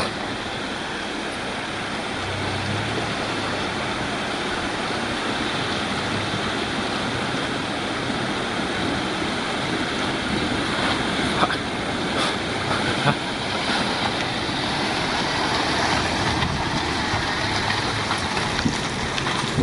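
A Daihatsu Feroza wades through a creek, producing a continuous broadband rush and splash of churning water with a low engine rumble beneath, steady and close throughout.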